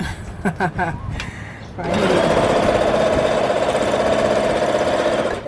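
A Quilters Choice domestic long arm quilting machine starts stitching after a few brief clicks, then runs as a steady, fast, whirring mechanical hum, close and continuous to the end.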